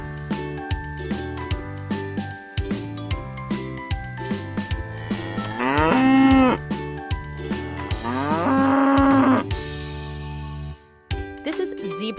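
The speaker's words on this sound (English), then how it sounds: "This is cow." A cow gives two long, drawn-out moos close by, over a light, rhythmic musical backing with jingling tones.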